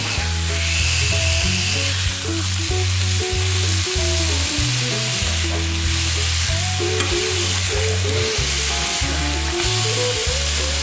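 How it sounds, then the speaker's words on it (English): Ground deer burger patty sizzles loudly and steadily on a hot griddle as it is smashed thin with a spatula, a continuous close frying hiss with no talking. "this is where the name smash burgers come from. You want to smash it good and flat, real thin."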